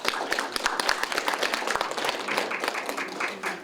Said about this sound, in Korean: 여러분 축하의 박수 크게 부탁드립니다